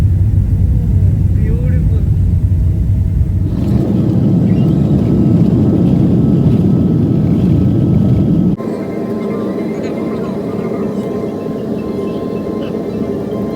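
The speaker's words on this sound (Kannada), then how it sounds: "ಇನ್ನೇನು ವಿಮಾನದ ಚಕ್ರ ನೆಲ ಟಚ್ ಮಾಡಬೇಕು" An airplane landing at Boston, heard from inside the cabin: a steady, heavy engine and airflow rumble with an abrupt shift in the roar as the wheels meet the runway.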